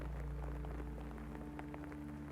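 Steady soft rain patters on window glass, a constant even hiss with scattered droplet taps and a low hum beneath, no voices.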